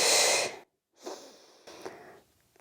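A person breathing during a Pilates workout on upper back and arms, a strong, close exhale followed after a pause by two softer breaths, with no speech.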